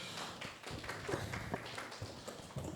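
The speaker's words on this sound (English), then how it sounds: "Round of applause, guys" A roomful of men claps at a men's group gathering, a steady, fairly faint patter of many hands continuing for a few seconds with little talk over it.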